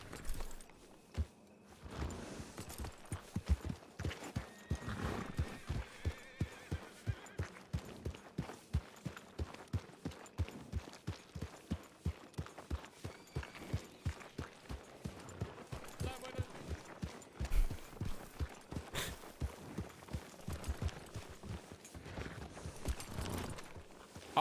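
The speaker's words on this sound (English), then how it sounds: "There's a lot of horses here for not very many people." Horses' hooves clip-clop in a video game, a long run of regular, fairly quiet hoof beats that quicken and slow at times.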